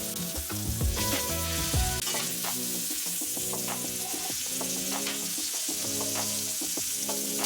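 Steak sizzling steadily in a hot frying pan just after being flipped, a continuous bright crackle under a layer of background music, with no talking.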